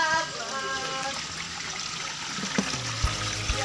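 A small forest stream runs over mossy, slippery ground, trickling and burbling steadily at close range. A few louder splashes come near the end.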